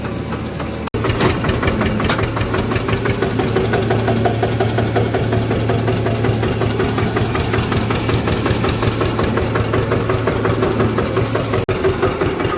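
A tractor pulling a loaded straw trolley, its diesel engine running with a steady, loud, close knocking rumble throughout, no voices.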